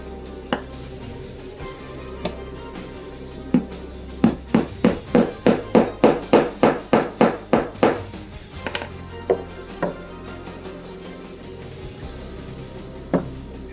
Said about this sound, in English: We're going to take our hammering tool.